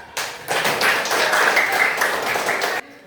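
Primary school class giving a short burst of clapping together, a dense ragged clatter of hands lasting a couple of seconds before stopping abruptly, close and loud.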